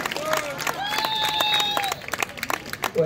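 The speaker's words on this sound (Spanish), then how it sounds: "Un aplauso para Guillermo de" Audience applause and cheering at a festive fashion show, a crowd clapping steadily for a model on the runway, with whistles and an announcer's voice speaking over it.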